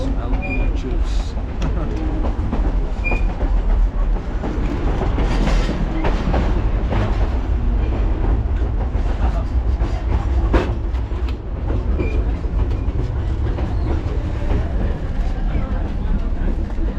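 A passenger train rolls along the rails on a scenic route, heard from inside the car as a continuous loud rumble with rhythmic clickety-clack and occasional squeals, while people talk over it.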